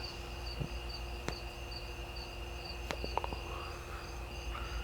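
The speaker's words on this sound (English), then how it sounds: "all the crickets and the cicadas kind of go" Continuous high-pitched chirping of crickets and cicadas in a quiet outdoor night, with a few faint clicks scattered through.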